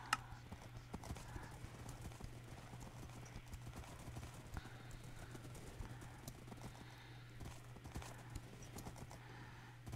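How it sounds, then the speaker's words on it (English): Rapid, steady clip-clop of horse hooves in Minecraft, quiet and continuous over a low hum, with faint clicks in the background. "Okay, here's your horse."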